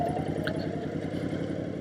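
Honda Fury chopper motorcycle engine running at a steady idle, a close low rhythmic throb with even pulses and no talking.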